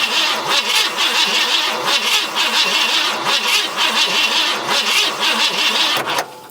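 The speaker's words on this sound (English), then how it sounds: "I'm gonna try to spin the engine and see if we see anything there." An abandoned Ford F100 engine cranks without spark, the starter churning in a fast, even rhythm for several seconds, loud and close, before cutting off abruptly.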